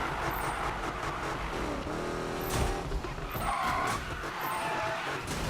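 Car drifting in Need for Speed 2015, tires skidding and squealing in a sustained screech over a loud engine roar, with a sharp burst midway as the slide peaks.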